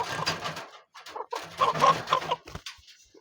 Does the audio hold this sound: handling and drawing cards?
no